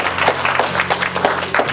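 A church congregation bursts into applause at a service, dense close clapping from many hands in a brief, loud, steady burst.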